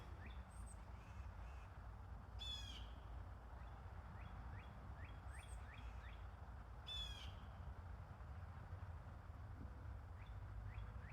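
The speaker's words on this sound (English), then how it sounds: "Figured I'd leave some bird calls in there for a minute." Birds calling outdoors, several harsh crow-like caws and short chirps scattered over a steady low background rumble, faint and distant, with no talk.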